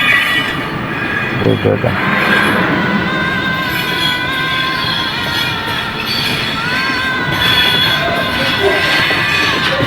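A passenger train at the Jurani railway level crossing rumbles past loudly with wheel squeal and rail clatter, while a crowd and children's voices rise over the steady train noise.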